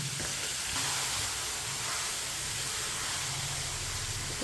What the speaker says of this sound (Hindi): अब इसे 4 मिनट के लिए भून लेंगे। 4 मिनट के लिए ऐसे ही चम्मच लाते हुए पका लेंगे।